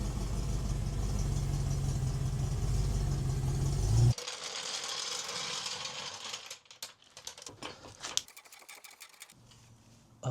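A BMW E90 M3 engine idles loudly and steadily for about four seconds, then cuts out abruptly, leaving quieter garage clanks, rattles and ratcheting mechanical sounds.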